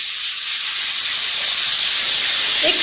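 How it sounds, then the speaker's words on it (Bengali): Tomato and slit green chilies fry in hot oil with a loud, steady, close hiss and sizzle that continues without break. "একটু ফোড়নটা ভেজে"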